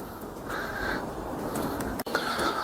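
A crow caws a few times at a distance over a soft, steady outdoor hush on a mountain descent at dawn.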